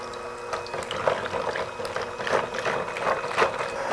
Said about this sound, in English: I'm going to beat the heavy whipping cream